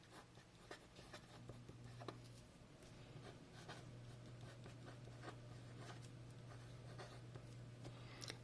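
Cosmo Air Light fountain pen inked with Organic Studio Nitrogen scratching across paper, a faint close series of soft strokes and taps over a steady low hum.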